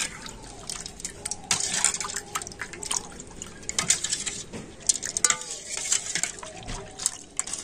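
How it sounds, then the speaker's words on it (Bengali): A spoon stirs yogurt lassi mixed with chaat masala and roasted cumin powder, giving continuous wet clinking and swishing with small liquid splashes, close and moderately loud, with no talk. "তো আবার আমি ভালো করে মিশিয়ে নিচ্ছি।"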